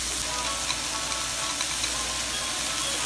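Frozen mixed vegetables tossed into a hot pan of sizzling pineapple shrimp fried rice, with steady dense frying crackle and light stirring scrapes, close and continuous without voices.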